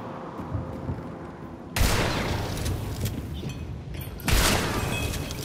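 Two sharp, loud gunshots crack out from a pistol in a shooter video game, each followed by a brief ringing tail, against a steady noisy background.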